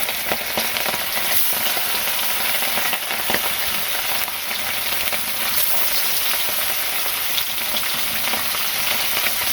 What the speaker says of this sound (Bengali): তেল দিয়ে দিই, মাছগুলো মেখে রেখে দিছি। এখন মাছ দিয়ে দিব।